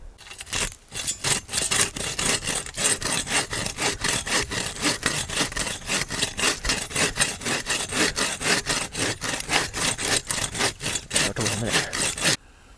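A hand saw rasps steadily through wood in fast, even back-and-forth strokes, loud and close, stopping near the end.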